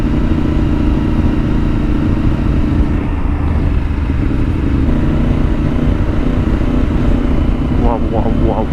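A Yamaha R1 motorcycle engine with a touchy throttle drones loud and steady throughout, heard from the rider's position while a voice talks over it.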